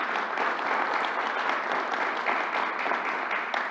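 Steady, moderately loud audience applause fills a news-conference room with the New York governor, a dense wash of many hands clapping continuously with no break.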